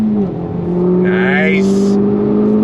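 Honda Civic Type R FL5 accelerating on throttle, a steady loud engine drone rising in pitch under a brief spoken exclamation, with faint whooshing tire and wind noise.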